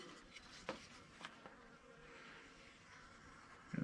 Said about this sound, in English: Got some bees buzzing around me.